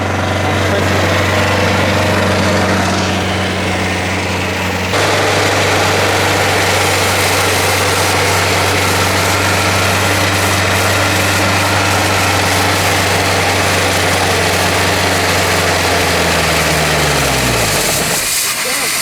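A motor running on Starbucks coffee in place of engine oil hums loudly and steadily amid hissing spray, then the pitch sags and the engine seizes to a stop near the end.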